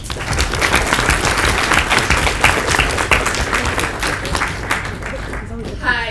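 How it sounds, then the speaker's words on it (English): A crowd claps loudly and continuously for several seconds, the dense applause easing slightly near the end. "Give her a round of applause."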